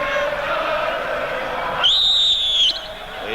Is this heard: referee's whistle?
yes